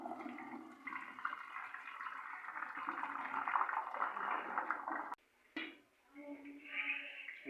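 Cooking water poured off boiled chickpeas during chana chaat prep, a steady rushing, splashing pour lasting about five seconds, then a brief pause and a lighter trickle with some clatter at the end.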